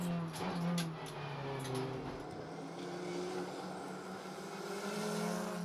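Touring race cars, a VW Golf and an Opel Astra, race past with steady engine drones and rising pitch as they accelerate, heard at moderate distance alongside crowd or commentary noise.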